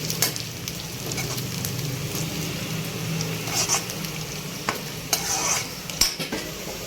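Chopped onion and garlic fry in a pan for a leafy greens dish, a soft continuous sizzle broken by repeated spoon scrapes and sharp metallic clinks against the pan.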